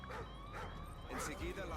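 Dogs bark and whimper in Call of Duty: Ghosts, short yips and whines over steady game background noise, fairly faint and brief.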